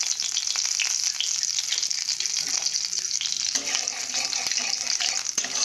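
Black cumin seeds (kalonji) fry in hot oil in a home kitchen, a loud, close, continuous sizzle with sharp crackling pops throughout.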